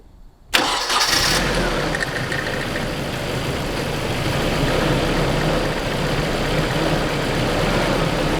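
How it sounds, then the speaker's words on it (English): A KA24 engine in a Nissan 240SX cranks and catches after a brief quiet moment, then settles into a steady, loud running rumble that continues to the end. "We went to start the car"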